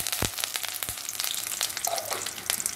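Sharp pops and crackles of mustard seeds bursting in hot oil, scattered over a steady sizzle, close up with no voices.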